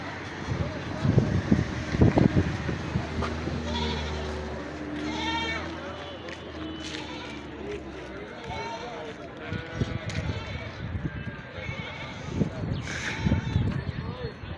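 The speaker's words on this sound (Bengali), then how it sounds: "এই এরিয়াতে শুধু ছাগল আর দুম্বা, তেজ এগুলো পাবেন" Goats and dumba sheep at a Saudi Arabian livestock market bleat several times from close and mid distance, over wind buffeting the microphone while someone talks nearby.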